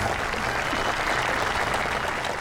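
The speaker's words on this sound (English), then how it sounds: "I didn't expect an applause or anything" Audience applause at a 2016 Veterans Day ceremony, continuous, loud clapping from a sizable crowd, even and unbroken with no voices over it.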